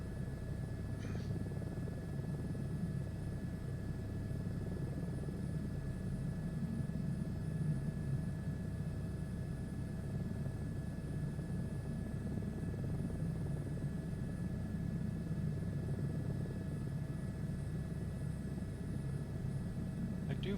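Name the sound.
Airbus H125 helicopter flying in Microsoft Flight Simulator 2024 video game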